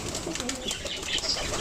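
Fancy pigeon giving soft low coos with a brief flutter of wings nearby, short and fairly quiet.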